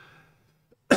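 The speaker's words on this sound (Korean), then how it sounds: "마른 기침이 이게 가시질 않네요" After a fading voice and a brief pause, one short, sharp dry cough bursts out, loud and close to the microphone.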